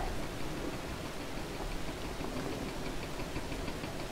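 Steady rain falls across the farmland of Farming Simulator 22 on the No Mans Land map, a continuous broadband hiss holding at an even level throughout with no voices on top.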